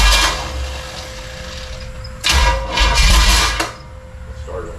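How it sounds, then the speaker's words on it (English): Starter motor cranking a 427 big-block engine in a 1972 Chevelle on a low battery, a strained whirring with bursts of grinding at close range; the engine does not catch. "Starter don't sound good."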